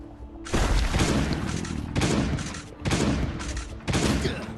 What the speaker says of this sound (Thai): ลูกซองแรงมากเลยครับผม